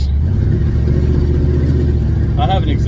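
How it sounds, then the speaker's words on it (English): A loud idling car engine with an exhaust leak rumbles steadily up close with a throaty, uneven puffing; a voice speaks briefly near the end. "I have an exhaust leak I haven't fixed."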